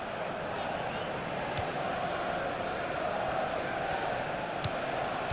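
Stadium crowd ambience from a FIFA 16 football match, Arsenal career mode on Xbox One: a steady, continuous roar of spectators that holds at an even level throughout, with a couple of faint sharp knocks.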